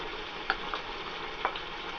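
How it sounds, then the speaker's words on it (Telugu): Spoon stirring fried mushrooms into a masala curry in a hot pan, with a soft steady sizzle and a few faint scraping clicks, quiet and close, no talking. "ఈ మసాలా కలిసేటట్టుగా బాగా కలుపుకోవాలి"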